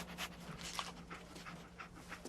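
Dogmeat, the canine companion in the game Fallout 4, pants steadily in quick rhythmic breaths over a low constant background hum, close and moderately quiet, with no talking.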